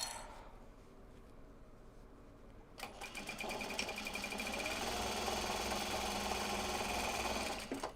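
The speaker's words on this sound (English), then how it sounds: "I do have my next bobbin winding as well" A sewing machine starts up partway through and whirs steadily at speed while winding a bobbin, a loud, close mechanical buzz that runs on until the end.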